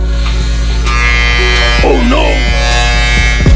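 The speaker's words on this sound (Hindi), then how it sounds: "ये सोचकर इस बच्चे ने ट्रिमर अपने हाथ में लिया और बाल काटने लग गया।" An electric hair trimmer buzzes steadily and loudly throughout while a child cuts their own hair, the hum continuing under a brief exclamation of speech.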